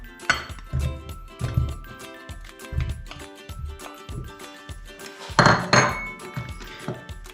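Butter going into a glass bowl set over water for melting chocolate, a series of close clinks and knocks of utensil on glass at an uneven rhythm, with a louder clattering burst near the end.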